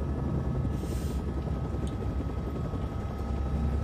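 A helicopter in the TV drama series Chernobyl produces a steady, low, droning rotor rumble that holds evenly throughout, fairly loud, with no talking over it.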